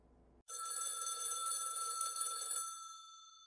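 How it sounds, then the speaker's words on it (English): A telephone bell rings in a quiet house, one sustained bright electronic trill starting abruptly after near-silence and fading off at the end. "every ring in this house feels like a tiny needle stabbing my ears"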